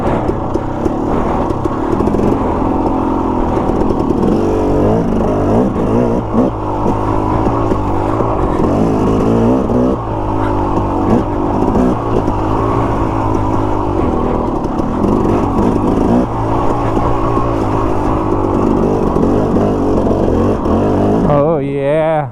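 A KTM motorcycle engine chugs steadily, loud and close, riding along with wind rush and shifting pitch as it pulls, while a rider talks intermittently over it.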